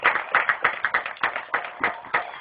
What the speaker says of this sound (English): Big round of applause for those gentlemen as well.